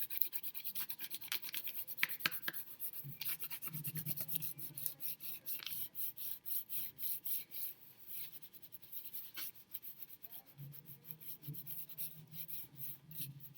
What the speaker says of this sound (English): you are just going to rub away with your black crayon, making sure you get all those little crevices